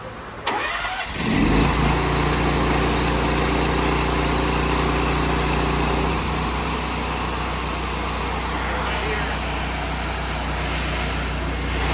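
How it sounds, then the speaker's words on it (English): A loader machine's engine starts up and settles into a loud, steady running drone with a constant low hum, continuing alone for the rest of the stretch during a maintenance check for a leak. "Now listen to the sound of that machine while I'm running."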